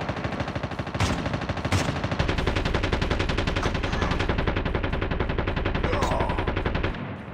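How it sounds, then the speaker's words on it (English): Video game gunfire: sustained rapid machine-gun bursts rattling loud and close, nearly continuous for several seconds before they stop abruptly. "There do be hella shooting going on."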